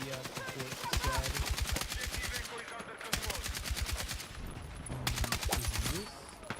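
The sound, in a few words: explosions in Riyadh, Saudi Arabia, from a news video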